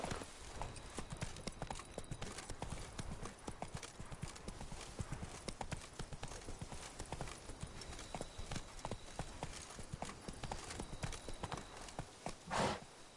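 Horse hooves clip-clop at a steady trot through a PS4 video game, a dense, continuous rhythm of close, fairly loud hoofbeats with a brief whinny-like burst near the end.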